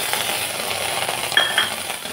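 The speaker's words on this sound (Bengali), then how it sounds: "খালি খোলাতে সুন্দরভাবে ভেজে নেব" Garlic and green chilies dry-roasting in an empty pan give a steady, bright crackling sizzle throughout, with a brief light metallic clink of a utensil near the middle.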